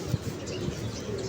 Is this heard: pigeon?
yes